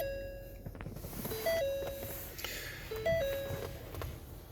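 A 2018 Ford Edge Titanium's seatbelt reminder chime sounds inside the cabin: a soft two-tone ding repeated twice at a steady interval, quiet against a low background hum.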